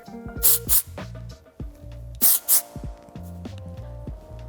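Hair spray is spritzed through small sections of hair at the scalp in two pairs of quick, sharp hissing bursts, close and clear under ongoing talk.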